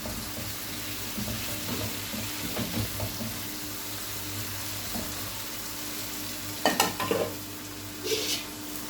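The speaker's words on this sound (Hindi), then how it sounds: "अरबी डाल के अच्छी तरह भून रही हूँ" Taro root (arbi) fries and is stirred in a ghee-rich masala in a pan, a steady close sizzle with intermittent scraping stirs and a couple of louder clinks near the end.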